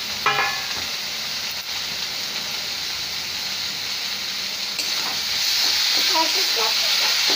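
Kachu leaf greens are frying in a pan with very little water, giving a constant close sizzle and hiss that grows slightly louder near the end, with faint clinks from stirring.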